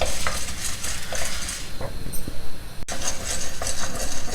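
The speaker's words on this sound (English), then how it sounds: "Dry roast it till the red chilli is well roasted." Red chillies and roasted gram dry-roasting in a pan, with steady stirring scrapes and a soft sizzle running throughout, plus an occasional light clink of utensil against metal, close and moderately loud with no talking.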